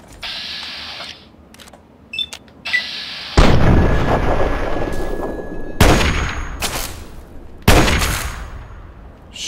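Sniper rifle fire in Fallout 3: several sharp, booming shots ring out close and loud at spaced intervals, each followed by a long rumbling decay, with small clicks and mechanical sounds between them and no talking.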